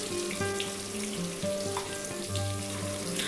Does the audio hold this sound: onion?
yes